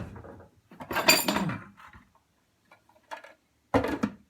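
A spoon stirs a protein recipe in a container at home, giving bursts of clinking and scraping that stop and start, close and fairly loud, with short silences between.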